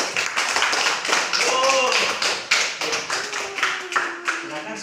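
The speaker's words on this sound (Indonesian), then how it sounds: "Oke, kita beri aplaus." Audience applause during a classroom presentation on Caliph Abu Bakar: a steady patter of many hands clapping for about five seconds, with voices talking over it.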